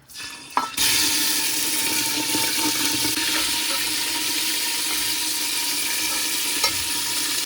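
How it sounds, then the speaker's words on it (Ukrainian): Meat for borscht hits a hot oiled Afghan kazan with a sudden hiss, then fries in a steady, loud, close sizzle with a brief stirring clatter near the end, no voices. "В першу чергу кидаємо м'ясо, піджарюємо м'ясо"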